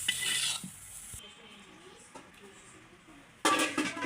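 Fried bathua greens lifted out of a pan, giving soft scraping and stirring sounds with a faint sizzle, close by, as someone talks throughout.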